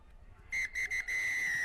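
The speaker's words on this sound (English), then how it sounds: "As the whistle sounds" A referee's whistle ends a rugby sevens cup quarterfinal between Chile and Germany in Montevideo, blown as a few short sharp blasts and then one long shrill blast, loud over a low stadium murmur.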